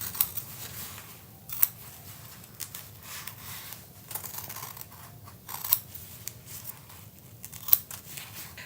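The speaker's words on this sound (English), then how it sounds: "We're just going to cut our skyline out exactly on the line." Scissors snip steadily through fabric, cutting out appliqué pieces exactly on the line, with soft repeated cutting strokes and a few sharper clicks, close up and without talking.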